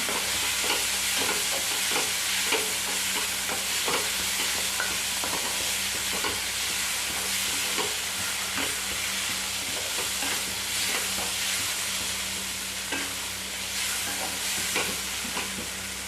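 Green chillies for Maharashtrian thecha being stirred and mixed in a hot oiled pan, a continuous loud sizzle with scraping spoon strokes against the metal, close and steady with no voice.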